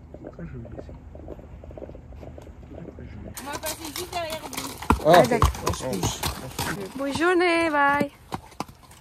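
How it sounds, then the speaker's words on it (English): Horse hooves clip-clop steadily at a distance, then people chat loudly nearby and partly cover the hoofbeats. "You can hear the horse."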